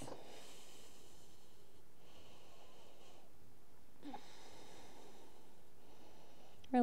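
Slow, soft nasal breaths from a yoga practitioner holding a forearm plank, several long inhale and exhale cycles, close but quiet with no talk.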